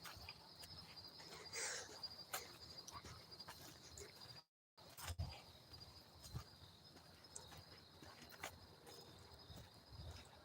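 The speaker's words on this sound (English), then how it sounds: "you hear the crickets" Crickets chirp at night in a steady, high continuous trill that persists faintly throughout, briefly cut out by a short silent gap.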